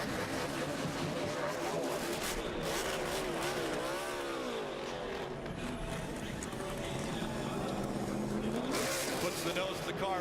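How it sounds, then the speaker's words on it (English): A NASCAR race car at Miami does a burnout with its nose against the inside wall, engine roaring and revving loud and continuous with tire squeal, crowd noise and commentary talk over it. "Puts the nose of the car right against the inside wall, right where his crew is, and burns it down."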